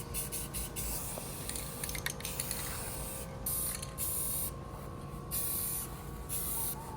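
Primer hisses from an aerosol can onto a Maverick 88 or Remington 870 shotgun in light, repeated bursts, several close spray hisses with brief pauses between them.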